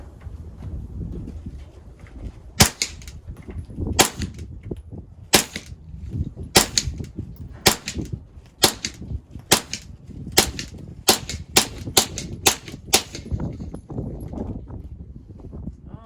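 A series of sharp, muffled cracks from a suppressed gun, about fifteen in all, fired at a steady pace with short gaps, over a quiet background.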